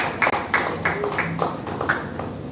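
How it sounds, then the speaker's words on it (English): Applause rises for a guest dignitary at a World Table Tennis Star Contender event, with a scattering of claps and taps rolling through a roomy space at moderate loudness, no voices over it. "Big round of applause for her."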